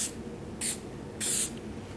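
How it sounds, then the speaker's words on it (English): Spray adhesive hisses from an aerosol can onto upholstery foam for a no-sew leather ottoman, in two short bursts, the second longer, with quiet between them. "go ahead and adhere it to the previous layer with a little bit of spray adhesive"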